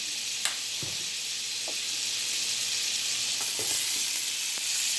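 Butter and a little olive oil with paprika and sliced onions sizzle steadily in a cast iron skillet over medium-low heat, a continuous close hiss with a few soft stirring knocks and no talk.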